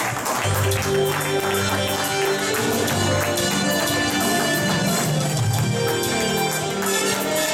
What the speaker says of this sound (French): je vous demanderai d'applaudir ceux qui vont monter sur les marches